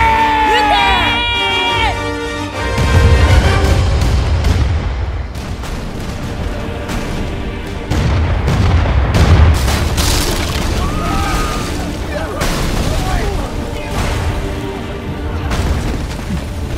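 Cannons fire in Kingdom Hearts III during a Caribbean-set battle, with deep booms rolling under a loud mix of shouting crowd voices, cheering and orchestral music throughout.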